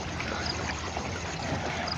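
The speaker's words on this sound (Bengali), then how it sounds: "কি পরিমাণ পানির স্রোত!" A strong current of cold water rushes through a channel beneath a footbridge, giving a steady, full roar with a broad, even texture, moderately close and without voices.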